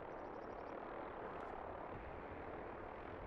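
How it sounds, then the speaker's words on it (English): A helicopter approaches in the video game Fallout 76, a steady broadband rotor and engine roar that stays loud and even throughout, with no clear blade chop standing out. "There is a chopper coming."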